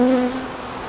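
Honeybees buzz at a hive during setup of a queen cell builder, a close, dense drone with a brief clear tonal hum fading within a second.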